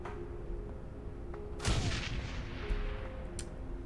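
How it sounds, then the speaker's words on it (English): A grenade bursts in the Shadowrun: Shadows of Hong Kong video game with a single muffled boom, fairly faint, over a low steady game backdrop, followed by a quieter thud and a short crack. "That grenade kind of didn't do much"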